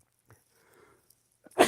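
After a near-silent stretch with a few faint small noises, one sharp, loud sneeze bursts out at the very end.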